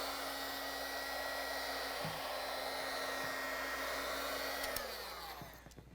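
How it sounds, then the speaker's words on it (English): A heat gun set near 650 blows hot air onto a Whirlpool refrigerator freezer door gasket, a steady close whooshing roar with a constant hum that drops in pitch and fades as it shuts off. "So I'm going to use the heat gun. I'm going to turn it to 650 approximately"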